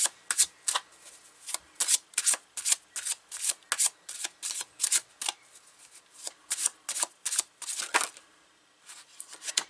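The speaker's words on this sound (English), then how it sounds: "Just want to spend some time shuffling it real well." A deck of cards is riffled and shuffled over and over, crisp rapid bursts repeating in a steady rhythm, close and alone with no talking.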